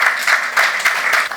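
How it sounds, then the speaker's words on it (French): An audience applauds strongly at a televised ceremony against human trafficking, a loud, close wash of clapping with a pulsing rhythm of regular surges, heard alone without voices. "je vous demande de les applaudir très fort."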